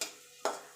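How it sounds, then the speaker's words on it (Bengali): Five-spice mix and two dried red chillies hit hot oil, giving two quick close bursts of sizzle, each fading fast, faint overall. "2 সেকেন্ড মতো ভাজা ভাজা করে নেব, যাতে ফোড়ন থেকে সুন্দর একটা গন্ধ বেরিয়ে আসে।"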